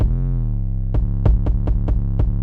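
A dark trap beat where a deep 808 bass slides downward in pitch for about a second. It then carries on under roughly six sharp, evenly spaced drum hits, loud and close, with no talking.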